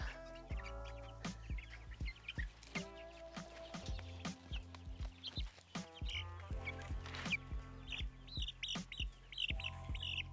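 Chickens on a homestead cluck and squawk in quick, irregular bursts, several birds close by and fairly loud, with sharp calls overlapping across the whole stretch.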